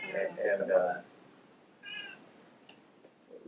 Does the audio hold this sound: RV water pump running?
no